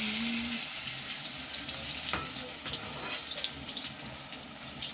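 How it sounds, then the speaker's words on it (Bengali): Eggplant slices fry in a pan with a close, continuous hiss and crackle of hot oil, punctuated by a few sharper pops and light spatula taps, with no talking. "এই দেখো বেগুন ভাজা হচ্ছে।"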